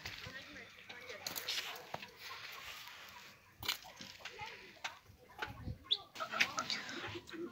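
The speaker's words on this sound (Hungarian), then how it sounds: "itt vannak közben a gyöngyik, le van vágva az egyik szárnyuk, hogy ne repüljenek ki, és a többi ott van a ketrecbe" Caged guinea fowl with one wing clipped, kept in a farmyard in winter, give faint, intermittent calls and rustles at a moderate distance.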